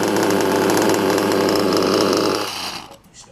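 A Hobao MacStar .28 nitro RC engine fitted with a Werks carburetor idles loud and close with a steady buzzing drone, then cuts off and fades to near silence in the final second.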